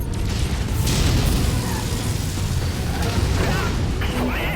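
Loud, sustained rumbling blast from a missile explosion in the video game Mechwarrior 5, a dense low boom that fills the whole stretch with crackling debris over it, close and heavy throughout.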